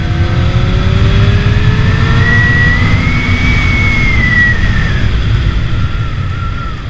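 A Honda Hornet 600 motorcycle accelerates hard, its loud engine note climbing in pitch through the revs and then dropping back near the end, heard up close and continuous.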